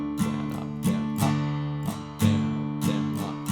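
Acoustic guitar strumming a song's chords, a handful of full, ringing strokes in an uneven up-and-down pattern, close and fairly soft, with no talking over it.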